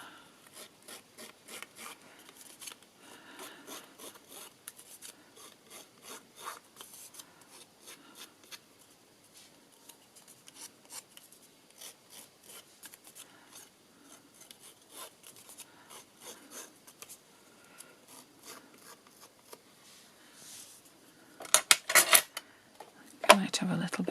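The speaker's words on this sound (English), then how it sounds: "So I'm just going to take my scissors and rough the edges up." Scissor blades scraping and roughing up the edges of a paper journal, a long run of quick, light rasping strokes close by, ending in a louder burst of handling.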